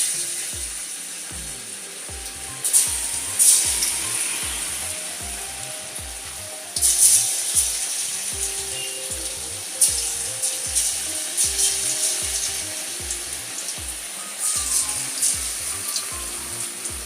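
Chilled marinated chicken pakodi fry in hot oil, a continuous close bubbling sizzle with a rapid rhythmic crackle and a few louder bursts as pieces are added.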